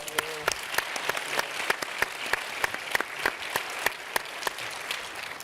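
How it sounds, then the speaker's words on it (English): Steady applause from a conference audience at a closing general session, many hands clapping with sharp individual claps standing out, continuous throughout. "Another round of applause for her."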